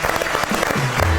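Audience applause on a Georgian comedy competition show, a steady dense clapping wash that fills the whole short moment, close and loud.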